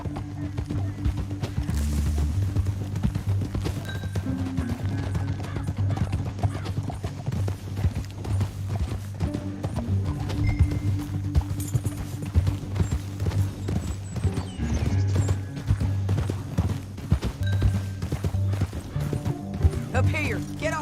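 Horse hooves clip-clop steadily in Red Dead Redemption 2 as riders travel toward a canyon, with occasional whinnies and speech over the rhythmic hoofbeats.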